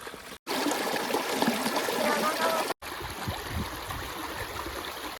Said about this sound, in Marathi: या साईडून पाणी चालू झाला